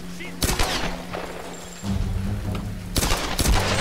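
Gunfire in the video game Tomb Raider (2013): several loud sharp shots in short bursts near the start and end, over a steady low game hum with brief voices.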